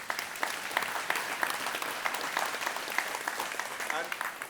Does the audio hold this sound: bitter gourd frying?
no